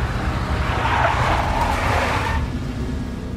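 In the Max Payne video game, a big black Mercedes tails the player during a chase, its engine roaring close by with a sustained tire squeal and skid that swells and then eases off.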